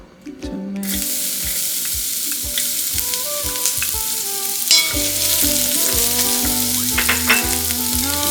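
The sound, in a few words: dried pollock frying in perilla oil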